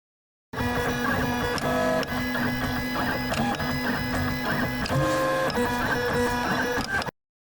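A BIQU 3D printer running a print, close and alone, with steady stepper-motor whirring and chirping tones that shift pitch as the head moves.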